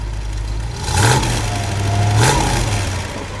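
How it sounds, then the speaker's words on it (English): A 1959 Buick LeSabre V8 revved twice close by, each blip rising smoothly from a steady idle and settling back down. "Yeah, give it a little rev."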